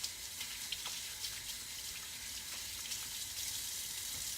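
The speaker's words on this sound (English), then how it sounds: "I'm gonna wash my hands now." Running tap water splashes over hands being washed at a sink, a soft, continuous hissing patter with small irregular drips, moderately close and fairly quiet, with no talk.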